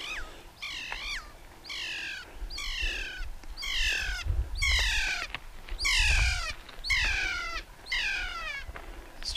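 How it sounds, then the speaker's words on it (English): Kea alpine parrots calling on Percy's Pass near Te Anau, New Zealand: a series of loud, drawn-out descending screeching cries, about eight in quick succession, with wind and outdoor rumble beneath. "Here's some birds in the background. They might be kias, they might be an alpine parrot."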